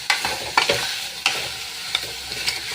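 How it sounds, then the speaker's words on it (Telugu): Chicken sizzles and fries in a non-stick pan as it cooks until its water evaporates, a loud close hiss broken by several sharp scrapes of stirring. "ఈ వాటర్ అంతా ఇంకిపోయే వరకు చికెన్ అయితే కుక్ చేసుకోవాలి"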